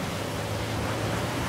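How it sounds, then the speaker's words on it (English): A waterfall in the video game Uncharted 4 pours in a steady, broadband rushing hiss, close and continuous, with no talking. "a secret cave behind a waterfall"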